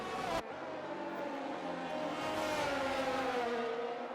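A Ferrari race car in a racing video game accelerates hard on the Hungary circuit, its high engine whine climbing steadily and staying loud and continuous throughout, with no talk over it.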